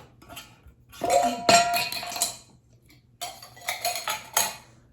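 Dishes and drinking glasses clink and clatter while being washed in a kitchen, with two bursts of rattling ceramic and glass separated by a brief pause.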